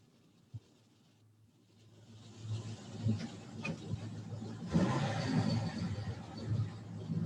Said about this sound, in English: So you can see cars rolling off the grid.